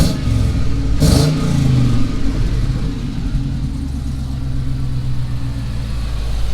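A car engine cranking and catching on the first try, then revving up and settling into a steady, rumbling idle, loud and close with no talking.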